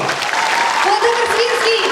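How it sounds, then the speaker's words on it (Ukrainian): Audience in a hall at a Ukrainian charity auction claps steadily, a dense, continuous wash of applause running through the moment while a voice speaks over it. "Оплески всьому залу!"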